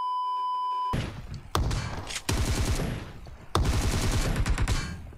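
Gunfire from a shotgun in an online shooter video game, with several loud bursts of shots and thuds that start after a second of quiet beeping and repeat in dense volleys close up.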